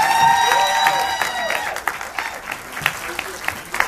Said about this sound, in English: Let's have a nice round of applause for the cast members.